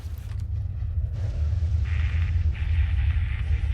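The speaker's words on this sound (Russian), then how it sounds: "Блин, еще идет пси-шторм." Deep, steady rumble of a psi-storm in the game S.T.A.L.K.E.R. Call of Chernobyl, a low droning roar holding for the whole stretch, with a thin hiss rising above it partway through and no voices.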